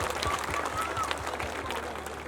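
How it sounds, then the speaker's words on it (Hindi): A public rally crowd claps in welcome for Charanjit Singh Channi, a brief burst of scattered applause under a murmur of voices. "जोरदार ताली बजाकर चन्नी साहब का स्वागत करें।"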